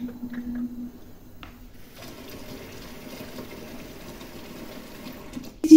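Water running from a tap into a plugged bathroom sink, a low steady pouring rush that begins after a quiet moment and continues close by, ending with a brief louder clatter.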